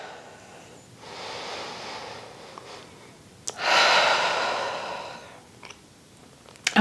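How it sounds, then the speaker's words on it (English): Slow, steady breaths during an intermediate Pilates reformer session: a soft inhale through the nose followed by a louder, longer exhale through the mouth, close and alone. "And we're just breathing in through the nose, out through the mouth."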